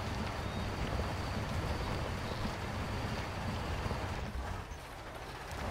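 Off-road truck engine in the Spin Tires driving game, a steady broadband rumble held close and loud while the throttle is fed in slowly, with no voices over it.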